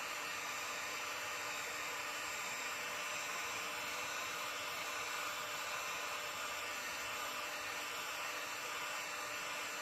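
A heat gun blows hot air in a steady, loud broadband rush that holds constant throughout with no pauses and no voices.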